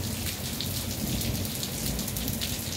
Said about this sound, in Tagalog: May kidlat at saka dalugdog.